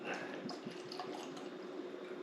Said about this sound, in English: So go ahead and pour a little bit.